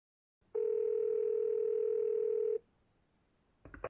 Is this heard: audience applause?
no